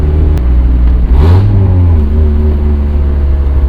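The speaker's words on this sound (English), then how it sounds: "I'm sure you guys probably hear it at least a little bit, but the exhaust on this car is stock." A 1996 Mazda Miata with its stock exhaust, engine droning loudly and close, then revving up briefly and settling back to a steady hum.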